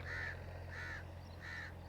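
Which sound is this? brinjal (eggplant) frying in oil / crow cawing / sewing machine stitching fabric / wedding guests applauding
crow cawing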